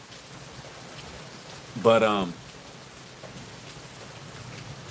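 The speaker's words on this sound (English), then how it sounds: "Y'all hear the rain? Yes, a little rain out here." Light outdoor rain patters steadily in the background, a soft continuous hiss that persists throughout, briefly overlaid by a single spoken word near the middle.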